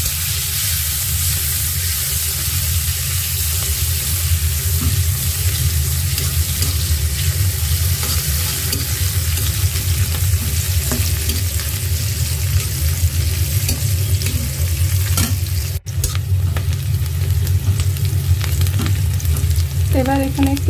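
Onion frying in a pan with nigella seeds after a hilsa fish head has been fried in the oil, a steady loud sizzle that runs throughout, with a brief knock or clatter near the end.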